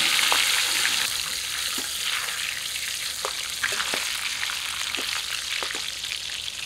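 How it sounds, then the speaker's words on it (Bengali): Pieces and the head of a local rohu fish fry in plenty of oil, a steady close sizzle with occasional pops and crackles throughout. "মাছ ভাজা হয়ে গেছে, মাছের পিসগুলোই আগে নামাই"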